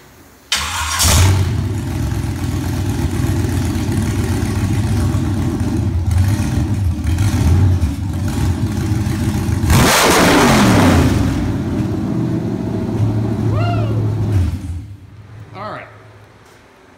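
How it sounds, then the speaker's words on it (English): LQ9 Vortec Max V8 with a Stage 1 lumpy cam and 317 heads fires up and settles into a loud, choppy, loping idle, with a brief rev near the middle, then shuts off. "Taking a look at his Stage 1 LQ9 Vortec Max. It has a little lumpy cam in it"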